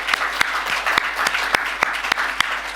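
Audience applause at a smokefree NHS best-practice presentation event, a steady mass of clapping with sharp individual claps popping out, sustained and fairly close throughout.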